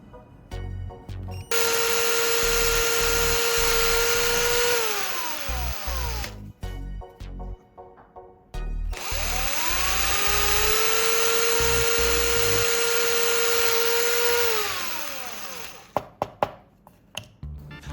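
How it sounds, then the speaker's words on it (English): A power drill bores small holes through a piece of cardboard: two long, steady high whining runs, each winding down in pitch as the bit stops, with short quiet handling gaps between them and a few clicks at the end. "I'll carefully drill 3 small holes at the marked points."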